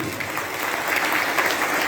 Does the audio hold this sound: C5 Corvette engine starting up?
no